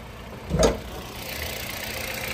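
Close up, a 2012 Hyundai Accent engine idles with a steady hum, broken early on by a single short louder burst before settling back.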